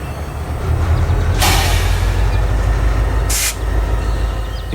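HO scale model train arriving at a cement plant industry on a branch line, a steady loud rolling rumble with two short bursts of hissing noise, heard alone without talk.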